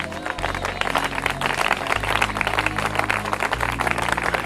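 A church congregation cheers and applauds the Lord with dense, steady clapping and crowd noise throughout, over a sustained deep organ-like tone.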